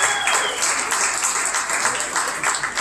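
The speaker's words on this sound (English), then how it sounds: "Let's give them a big round of applause." A crowd at a lamb show applauds the ring help and directors, broad continuous clapping that fills the space steadily from start to finish, with faint voices mixed underneath.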